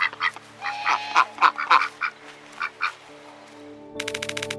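A goose gives a run of loud, nasal honks in irregular bursts at close range, followed by a quick series of rapid calls.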